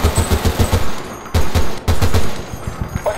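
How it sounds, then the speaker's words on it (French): Battlefield Bad Company 2 machine gun fire: loud rapid bursts of shots, a rhythmic string of cracks, a brief pause, then more fast bursts that thin out toward the end. "Ah, une mitrailleuse, oui,"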